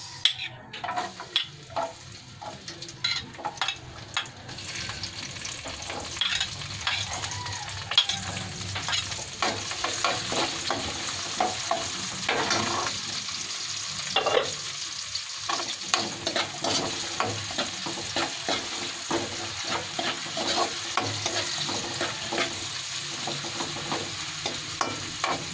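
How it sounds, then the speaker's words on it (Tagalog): Garlic and onions frying in a pan while being stirred, a steady bright sizzle with frequent scraping strokes throughout, close and fairly loud, no voices. "Guys, lagyan natin bawang sa sibuyas."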